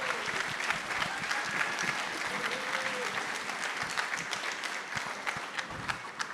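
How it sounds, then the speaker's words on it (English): Sustained applause from a high school audience at an orchestra concert, a dense steady wash of many hands clapping that fills the whole stretch at moderate loudness, with a faint voice briefly underneath. "Big round of applause for those 3."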